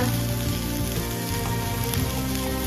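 Chopped bitter gourd sizzles loudly in hot oil with curry leaves in a pan, a dense, unbroken crackling hiss close up with no voices.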